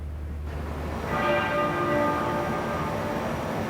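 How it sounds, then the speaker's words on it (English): A muffled church bell of Westminster Abbey tolls once with a sustained, ringing hum that slowly decays over a low background rumble. "The sound of the Abbey's muffled bell."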